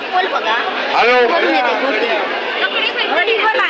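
Steady crowd babble at the annual Shri Devi Bhagwati temple fair in Munage, Devgad, Sindhudurg, many voices overlapping close by, with one nearer speaker briefly standing out from the continuous hubbub.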